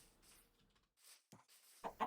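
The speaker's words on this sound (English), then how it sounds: "Oh, we found savannah. Oh, new chicken" A Minecraft chicken in a savannah gives a few short, quiet clucks, separated by gaps, with the last ones slightly louder near the end.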